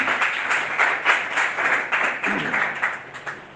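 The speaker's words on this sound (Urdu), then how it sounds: "میرے یسوع کے لیے ایک بار زوردار تالیاں." Scattered clapping from a church congregation praising Jesus, a short burst of uneven hand claps at moderate volume that thins out toward the end.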